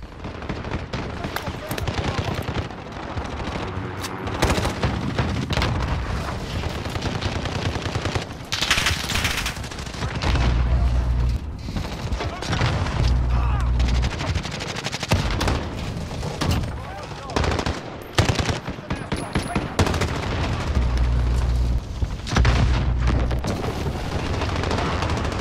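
Gunfire in Call of Duty: Modern Warfare: loud rapid machine-gun bursts and single shots crackle throughout, with heavy low thumps recurring, and players talking and shouting over the shooting.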